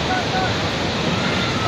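Continuous rushing surf of ocean waves at Baler, Aurora, broad and steady, with wind noise over the microphone throughout.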